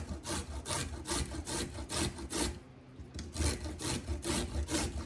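A small carrot rubbed against a box grater for homemade coleslaw, with steady rhythmic rasping strokes, about a dozen, close and fairly loud, briefly pausing midway before the scraping resumes.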